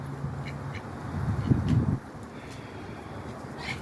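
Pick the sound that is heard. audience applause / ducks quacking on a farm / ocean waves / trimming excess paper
ducks quacking on a farm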